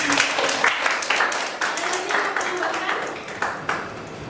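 A classroom audience claps through a college teaching session, a dense steady patter of many hands at moderate loudness with some talk and murmuring underneath.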